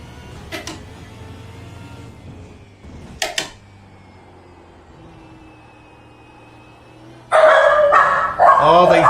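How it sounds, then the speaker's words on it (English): Dogs bark nearby during an iRacing session: two sharp single barks early, then a loud burst of barking near the end, over a low engine hum with someone talking. "Oh, these dogs."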